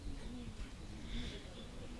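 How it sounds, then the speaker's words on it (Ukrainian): Birds in the Burkuty tract in Ukraine call faintly outdoors, soft repeated dove-like coos sitting low inside a steady wash of open-air background noise. "Ну вот, птицы поют."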